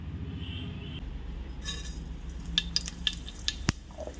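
Mustard seeds dropping into hot oil in a pressure cooker: a soft hiss rises, then scattered sharp pops and crackles as the seeds sizzle and burst, close and moderately loud.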